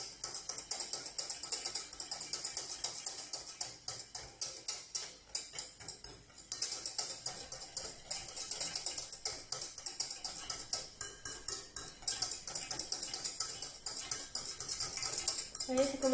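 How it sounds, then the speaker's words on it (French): Éclair pastry cream being whisked nonstop in a saucepan over very low heat, a rapid, even metallic ticking of the whisk against the pan running throughout, close and moderately quiet, with no talking. "Vous continuez de fouetter. Vous n'arrêtez jamais de fouetter à ce moment-là."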